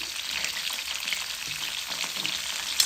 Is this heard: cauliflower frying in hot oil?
yes